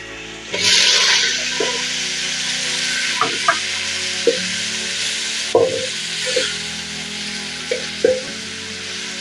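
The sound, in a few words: onions frying in a pan for sukuma wiki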